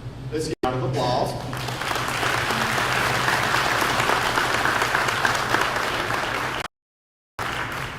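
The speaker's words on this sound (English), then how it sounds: "let's give a round of applause." Audience applause at a county sheriff candidates' question-and-answer forum, a sustained loud burst of many hands clapping for several seconds, with a brief voice at the start and a sudden cutoff near the end.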